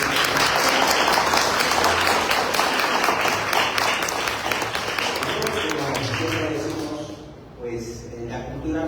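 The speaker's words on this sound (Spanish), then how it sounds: "Un fuerte aplauso, por favor." An audience at a literary talk on chronicle writing bursts into dense, sustained applause that fades toward the end, leaving a few scattered claps as a voice begins speaking.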